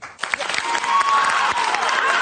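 An audience breaks into applause, clapping swelling quickly and continuing loudly with a few cheers mixed in.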